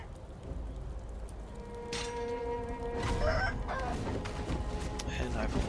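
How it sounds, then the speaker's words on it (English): Chickens and roosters cluck and crow in the Sekiro game's Hirata Estate, scattered calls over a steady game ambience, with faint talk partway through. "I think this side has chickens."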